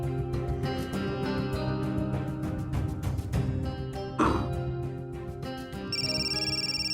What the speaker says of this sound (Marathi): फोन इलो हा, मॅनेजरचा फोन हा. उचला फोन उचला.